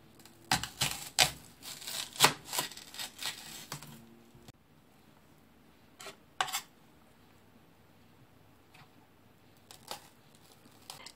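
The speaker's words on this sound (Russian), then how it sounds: "Большая луковица, я буду резать ее просто кубиком" A knife taps rapidly on a cutting board in a quick burst, dicing a large onion, then a few scattered chops follow after a pause, close and fairly quiet.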